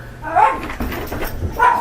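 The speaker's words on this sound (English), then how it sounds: "there go the dogs" Dogs let out a couple of short whining barks near the start and end, with muffled thumps and room noise between them, moderately loud and fairly close.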